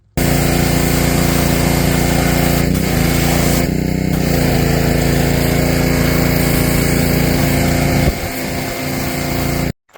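A leaf blower drying a freshly washed motocross bike roars loudly and close, a steady high-pitched engine whoosh with brief shifts in tone as the airflow moves, then cutting off abruptly near the end.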